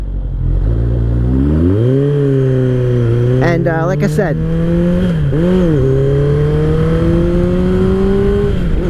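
A 2003 Kawasaki ZR7S motorcycle on a night ride, the engine rising through gears with smooth climbing revs, a brief throttle blip and dip, then a steady sustained drone, loud and close, with someone speaking over it.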